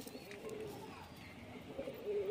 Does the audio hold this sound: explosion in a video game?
no